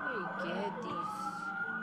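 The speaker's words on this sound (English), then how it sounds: "How do you dance to police sirens, bro?" A police siren wails with sweeping, rising and falling tones, steady and fairly loud throughout.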